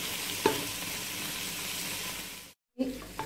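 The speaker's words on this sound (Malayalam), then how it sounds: "വെളുത്തുള്ളി ജിഞ്ചർ ഗാർലിക് പേസ്റ്റ് ഇട്ടത് മൂത്ത് വന്നിട്ടുണ്ട്." Ginger garlic paste frying in a pan for Thalassery chicken biryani, with a steady close sizzle, a brief stir near the start, a short dropout, then renewed sizzling.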